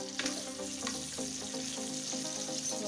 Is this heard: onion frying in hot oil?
yes